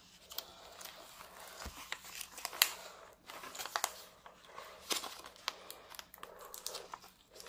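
Adhesive tape is pulled off a package holding a custom printed canvas, giving close, quiet, irregular bursts of crackling, tearing and crinkling with no speech.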